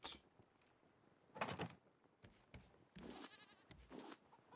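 A goat bleats in a farming video game: a few loud, raspy bleats in separate bursts, each lasting under a second, over quiet background ambience.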